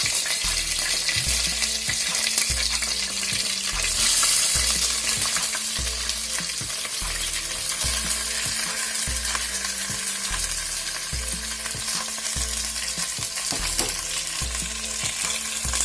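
Onions and curry leaves sauté in hot oil for a mutton liver fry, a steady close sizzle broken by regular rhythmic scraping of the spoon against the pan throughout.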